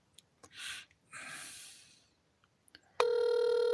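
A telephone starts ringing partway through, a steady loud electronic ring that continues to the end, after a few soft breaths and sighs close by.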